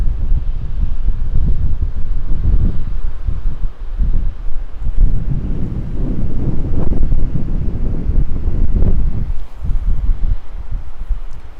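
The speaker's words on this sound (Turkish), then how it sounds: "Çünkü çok şiddetli rüzgar var." Strong wind on a clifftop above the sea near Antalya buffets the microphone in a steady, heavy roar with gusting swells throughout, no voices heard.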